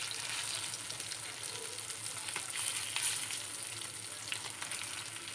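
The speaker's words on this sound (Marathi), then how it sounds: "आपण आता मच्छी दुसऱ्या साईडला परतून घेऊ." Mackerel (bangda) pieces frying in a pan, Malvani style, a steady close sizzle with crackling bursts as the pieces are turned over, heard alone.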